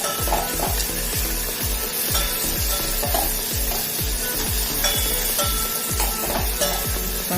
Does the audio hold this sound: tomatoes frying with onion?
yes